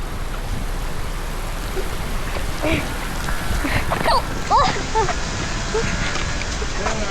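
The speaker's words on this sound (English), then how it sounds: "It's raining!" Steady heavy rain hisses throughout, with a voice and other voices chattering over it nearby.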